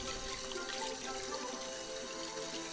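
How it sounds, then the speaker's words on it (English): Tap water runs steadily into a sink while paint is rinsed off, a continuous close hiss and splash with no pauses. "brilliant stuff is running water"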